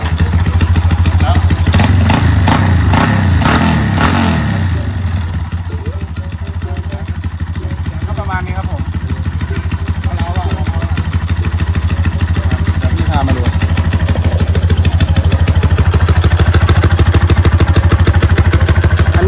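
A motorcycle bought at auction, fitted with an aftermarket exhaust, idles steadily with a loud, continuous rumbling engine and a faint mechanical clatter, while someone talks over it.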